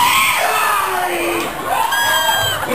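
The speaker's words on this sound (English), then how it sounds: "Somebody say salud! And your best Mexican scream?" A bar crowd screams, whoops and cheers together in a sustained, loud roar of overlapping shouting voices, with no single speaker standing out.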